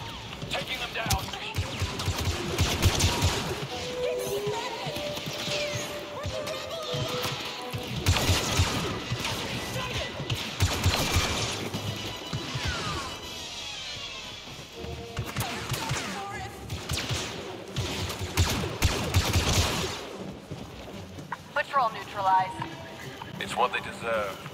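Blaster gunfire in a Star Wars Battlefront II campaign battle against Imperials on the moon Yavin 4, with loud repeated bursts and impacts over a busy game soundtrack, and voices talking throughout.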